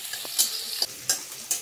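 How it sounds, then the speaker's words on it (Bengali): Raw capsicum stirred in a frying pan while making a beetroot and carrot curry: a steady sizzle with four or five distinct scraping strokes of the spoon at uneven intervals, close and clear, with no talk. "ক্যাপসিকামটা যেহেতু কাঁচা ছিল, ওই জন্য এটা একটু ভালো করে নেড়ে নিতে হবে।"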